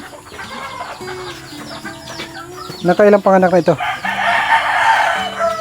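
Native chickens cluck nearby while a rooster crows loudly partway through, with someone speaking briefly and a steady rustling background, on a backyard farm.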